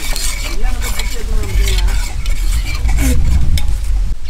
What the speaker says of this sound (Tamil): கிண்டி விட்டுட்டா இருக்கணும், அப்போ தான் அடி பிடிக்காம இருக்கும்